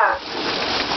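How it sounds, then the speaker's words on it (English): Rain falling at night makes a dense, steady hiss that stays loud throughout, with no clear speech. "It is raining tonight."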